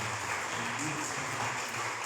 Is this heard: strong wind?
no